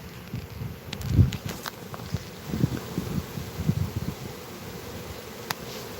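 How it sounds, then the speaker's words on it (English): Bees swarming down inside a spot at a mobile home, giving a low, steady buzzing drone with a few louder swells and faint rustling and footsteps nearby. "A little bit more bees than I thought was there."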